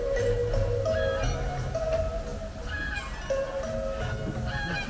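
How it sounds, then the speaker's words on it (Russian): Geese honk repeatedly at moderate distance on water in a foggy steppe oasis in Inner Mongolia, their calls overlapping against steady background noise. "Это гуси!"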